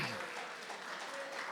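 A convocation ceremony audience claps in a steady patter of many hands that fills the room at moderate distance, brief and unbroken with no clear voice over it.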